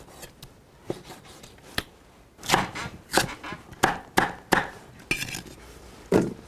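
Knife chopping raw beef brisket on a cutting board in a home kitchen, a series of sharp, close thuds: light scattered taps at first, then heavier irregular chops for the remaining seconds, with no talking.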